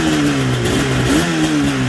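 Yamaha RZ500 V4 two-stroke motorcycle engine revving loudly and close, with a steady buzzing tone that rises and falls slightly in pitch over two seconds, and no talking.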